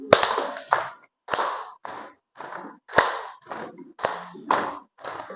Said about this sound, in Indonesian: Ibu mau kalian melakukan sesuatu yaitu tepuk anti narkoba